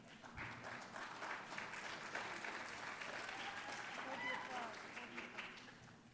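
Sustained audience applause at a candidate forum for California Assembly District 30, a dense, steady wash of many hands clapping throughout, fairly loud and even, with no speech over it.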